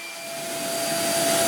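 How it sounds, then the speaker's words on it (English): Power sander smoothing the surface of a composite wood mast, a steady broadband whoosh that builds slightly in loudness, close and continuous with no talk. "I fine-tune the surface thickness with a sander"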